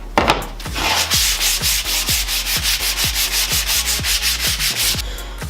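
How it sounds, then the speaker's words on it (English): Hand sanding of a wooden sword with 80 grit sandpaper, a rhythmic series of rasping back-and-forth strokes, about four per second, close and steady with no talking. "I'm going to do some hand sanding now to refine that just a little bit more"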